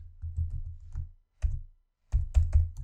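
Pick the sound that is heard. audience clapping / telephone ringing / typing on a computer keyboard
typing on a computer keyboard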